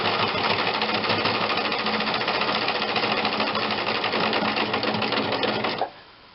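Sewing machine stitching fabric for a nun's wimple collar, a loud, close, rapid mechanical chatter running steadily for almost six seconds before stopping abruptly, with no speech.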